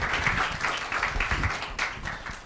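An audience at an Indonesian ceremony opening a professional certification institute and architecture studio applauds with a dense, steady wash of clapping that fades slightly toward the end, heard at a moderate distance.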